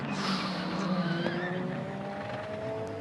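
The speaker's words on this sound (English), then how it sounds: "Drama straight away into the side of Toyota number 8 goes the Glickenhaus" Glickenhaus hypercar spearing into the side of the number 8 Toyota during endurance racing: a sustained tyre squeal and engine roar held at steady volume, heard from a distance without talking.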